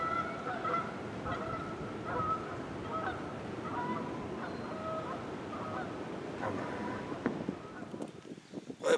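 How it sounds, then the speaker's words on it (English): Geese honk repeatedly over a river on a windy March day, a loose chorus of calls at moderate distance under steady wind noise and outdoor hiss. "Lots of geese flying today, guys."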